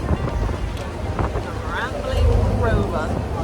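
A sea boat ride off the Isle of Wight near the Needles, with steady low engine rumble and wind buffeting the microphone, while people talk nearby throughout.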